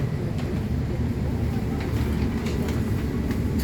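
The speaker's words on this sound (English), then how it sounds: "There's a tram that goes next to us here." Tram passing beside Zurich Stadelhofen station, a steady low rumble of rail wheels with faint clattering that holds at an even, fairly close level throughout, with no talk over it.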